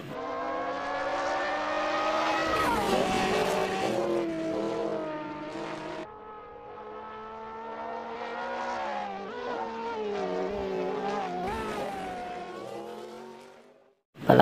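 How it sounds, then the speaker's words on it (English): Off-road racing cars roar past loudly, engines revving and shifting pitch continuously for several seconds before cutting off abruptly at the end. "Balap off-road."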